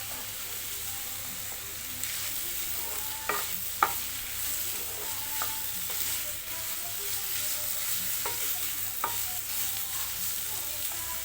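Grated coconut being stirred in a frying pan with dried chillies, a steady low sizzle broken by occasional spoon taps and scrapes against the pan, with no talking.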